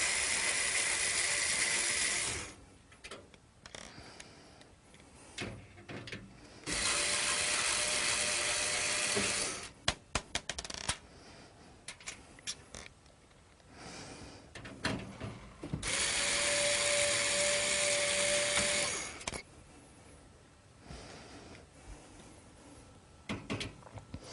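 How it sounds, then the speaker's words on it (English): Screws holding a power supply in a PC case being backed out, three separate bursts of buzzing, whirring driver noise, each a few seconds long, separated by quieter clicks and handling sounds, faint and close. "It's secured by 4 screws on the back. I'm going to simply remove them and take the power supply out of the system."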